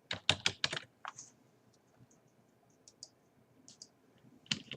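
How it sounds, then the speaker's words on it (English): Keys clatter on a computer keyboard as a web address is typed. A quick burst of close taps is followed by sparse, scattered keystrokes and a final cluster, all in a quiet room. "We're going to type in highergroundchurch.org/administrator,"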